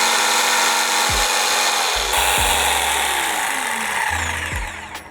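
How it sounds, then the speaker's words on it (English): A power saw cuts through scrap wood supports for a herb planter box, with loud continuous high-pitched buzzing and several distinct strokes as the blade bites into each piece, no talking. "I'm currently cutting the horizontal supports, which are going to be between my feet, onto which the actual planks will be laid."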